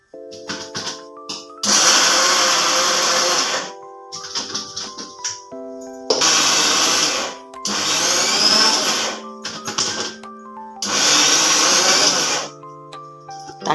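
A mixer grinder grinds spice masala in three loud whirring bursts of about two seconds each, with quieter clattering and shuffling between the runs.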